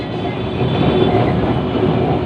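A loud, continuous rumble of a Kolkata tram rolling along rails toward Gariahat, close and steady throughout.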